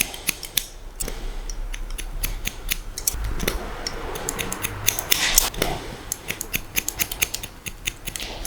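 Scissors snipping through a long men's haircut in a point-cutting technique, a close, rapid series of crisp metallic snips in irregular bursts, with no talk.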